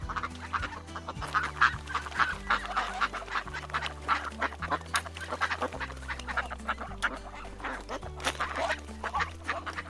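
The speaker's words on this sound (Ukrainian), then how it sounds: "тут живе сім'я качок" Ducks quack and honk busily and continuously, close by, with soft background music running underneath.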